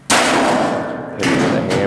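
Heavy hammer blows bang against the sheet metal of a washing machine being scrapped, a sharp clang followed by a quicker pair of hits, loud and nearby.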